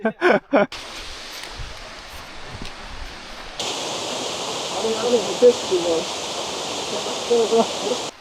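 Laguna Falls waterfall pours beside a tent campsite in Oregon, a steady broadband rush that swells louder partway through after a few brief knocks at the start.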